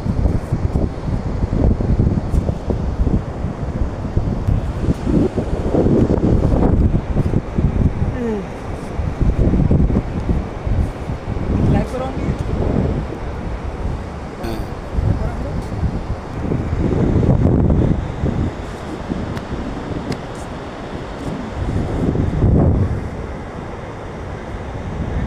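Wind gusts across the open sea beach at Shamlapur near Teknaf, roaring steadily into the microphone as a continuous broadband rush that swells and eases over about twenty-five seconds, with possible surf mixed in.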